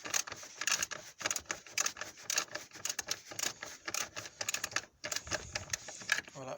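Socket wrench loosening the lower screw of the air filter housing on a Fiat Stilo 1.9 JTD 115, giving rapid, close clicking ratchet ticks in dense bursts with brief pauses, and no talking.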